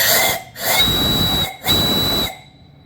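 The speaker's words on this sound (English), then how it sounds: "Really nice whistle on it." An antique steam boiler engine's whistle shrieks in two loud, sustained blasts with a short gap between them, each carrying a steady high tone over rushing steam hiss, then cuts off to quiet.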